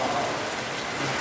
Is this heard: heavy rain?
yes